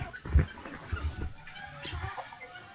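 Backyard chickens clucking close by in a rural Philippine yard, a few short low bursts scattered across a quiet moment.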